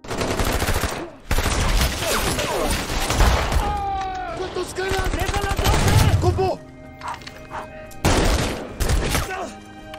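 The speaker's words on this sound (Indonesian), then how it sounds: "hingga terjadilah tembak-tembakan di antara mereka" Rapid bursts of gunfire in a film shootout, with loud booms and clattering shots, layered under dramatic music and effects, intense and continuous through most of the stretch.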